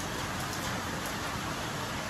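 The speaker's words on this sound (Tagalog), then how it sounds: "Ulan." Steady, dense rain pours down continuously, a loud even hiss of drops hitting surfaces nearby with no other sounds standing out.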